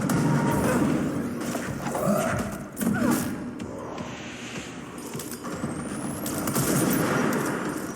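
Enemy gunfire in the video game Control, scattered sharp shots amid a busy, noisy action soundscape, moderately loud with no clear speech.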